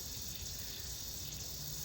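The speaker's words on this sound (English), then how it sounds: "the last head on the zone, which is lower than the other ones, is actually flushing the water out of the line" Water gushing steadily from a low sprinkler head at the end of an irrigation zone during a DIY winterizing blowout, a continuous loud broadband hiss and splash with no pause over the whole stretch.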